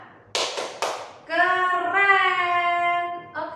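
Children in a classroom clap together in two sharp, loud group claps, then break into a sustained chanted vocal line, with one more burst of clapping at the very end.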